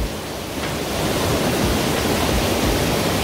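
Steady rushing water fills the scene, a dense broadband roar of a cold mountain valley stream close by among rocks on Gwangdeoksan, growing slightly louder after the first second.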